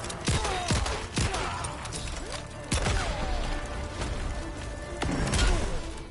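Explosions in the fighting game Mortal Kombat 11, a dense run of sharp bangs and crashing impacts recurring through the passage, loud and busy with no speech over them.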